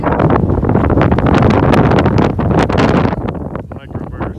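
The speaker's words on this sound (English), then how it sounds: "That wasn't even a bad microburst. No, it was just a gust." Strong wind gust from a microburst at a cattle-wrangling site, buffeting the microphone in loud, roaring bursts that ease slightly toward the end.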